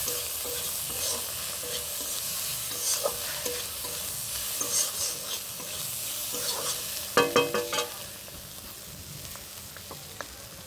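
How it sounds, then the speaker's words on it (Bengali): Gugli snails fry in oil in a pan, a steady close sizzle under repeated scraping stirs, with a cluster of louder clattering strokes partway through. "দেখো ভাজা ভাজা করে নিচ্ছি।"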